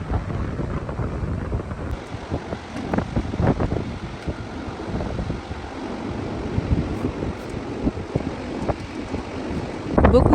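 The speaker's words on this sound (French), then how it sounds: "Beaucoup de vent aujourd'hui sur la digue de Bray-Dunes." Strong wind blows along the Bray-Dunes seafront promenade, a continuous rough buffeting roar with gusts hitting the microphone, surf faintly beneath.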